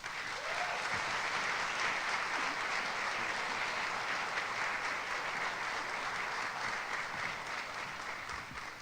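Sustained audience applause at a college fall convocation, a steady, dense crowd of hands clapping for the whole stretch, even in level and tapering only slightly at the end.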